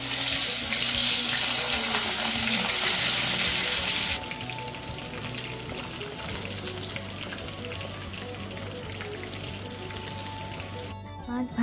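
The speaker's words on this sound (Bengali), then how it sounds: "আর মাছগুলো একটু ভেজেও নিব হলুদ মরিচ আর লবণ দিয়ে" Fish frying in oil with turmeric, chili and salt: a loud, steady sizzle fills the opening seconds, then continues quieter under kitchen clatter and a faint tone through the rest.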